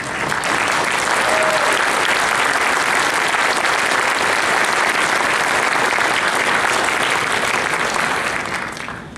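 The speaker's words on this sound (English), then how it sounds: "I want you to give them another round of applause." Sustained applause from a seated audience at a Reagan Day political dinner in New Bern, honoring legislative leaders; dense, steady clapping fills the room at full strength throughout before tapering slightly at the end.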